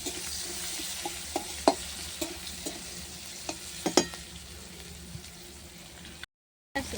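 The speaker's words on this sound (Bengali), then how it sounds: "ওই তেলে দেবো পেঁয়াজ অনেক করে পেঁয়াজ কুচানো পেঁয়াজটা নেড়ে নেব ভেজে" Chopped onions sizzle in oil as a spatula stirs them, a steady soft frying hiss broken by sharp scraping taps, close and fairly quiet, with a brief silent gap near the end.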